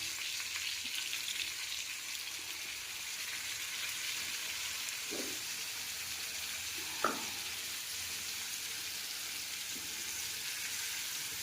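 Dried chili and cumin paste added to eggplant frying in oil, giving a steady, even sizzle throughout with a couple of faint utensil clinks in the middle.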